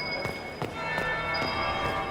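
In the fantasy role-playing game Dragon Age Inquisition, a bell strikes about five times at a slow, even pace, each ring bright and resonant with a lingering tail, heard clearly without speech.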